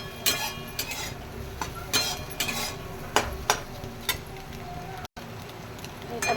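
A spoon stirs and scrapes egg frying with tadka masala in a pan, with repeated sharp metallic clinks over a soft sizzle, close and fairly loud, with one brief dropout.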